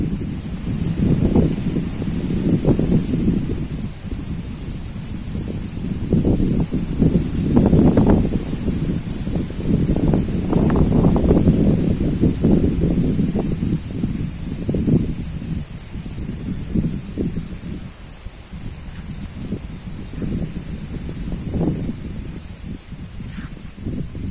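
Strong cyclone wind battering a rural village, loud gusty rumble and buffeting against the microphone with rustling leaves, surging and easing over some twenty seconds.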